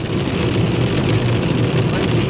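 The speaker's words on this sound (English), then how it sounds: "Hail." Hail pounds the ground and a vehicle during a storm while chasing the Union Pacific Big Boy 4014 steam locomotive, a loud continuous dense clatter that fills the whole moment with no pause.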